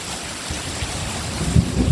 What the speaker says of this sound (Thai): เสียงฟ้านะคะ เสียงฟ้านะคะ